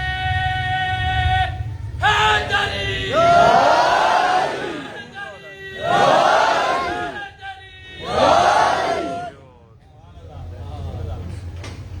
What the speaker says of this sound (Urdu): میں مشکور ہوں آپ کا، خوبصورت نعرے لگائے آپ نے